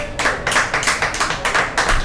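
A small audience claps for about two seconds, a light patter of hands with rhythmic bursts, fairly close and without cheering or talk.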